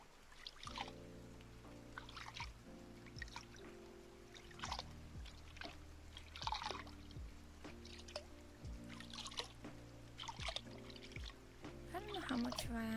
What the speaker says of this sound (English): Do you like the water noises? The sloshing of the water?